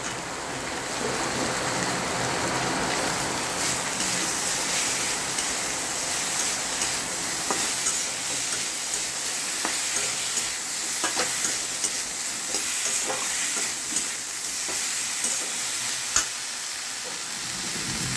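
Eggplant pieces frying in a pan, a steady broadband sizzle with occasional stirring clicks and scrapes, while rain patters in the background throughout.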